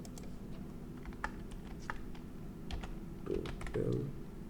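Keys clacking on a computer keyboard in quick, irregular bursts of close, crisp taps, with a faint steady hum behind and a couple of heavier thumps near the end.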